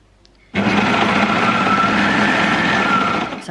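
An overlocker sewing machine stitches a seam, running in one close, continuous whirring burst of about three seconds that starts abruptly and fades slightly at the end.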